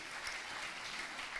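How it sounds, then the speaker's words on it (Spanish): A church congregation claps during an afternoon service, a short burst of even, sustained applause with no talking over it. "Denle un aplauso al Rey en esta tarde."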